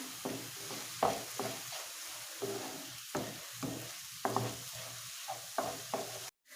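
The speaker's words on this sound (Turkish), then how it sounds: "şehriyelerimizi ekleyip şöyle güzelce pembeleşene kadar kavurmaya devam edelim" Vermicelli and onions sautéed in a pan, a quiet sizzle punctuated by rhythmic stirring scrapes roughly every half second, close and fairly faint, ending abruptly.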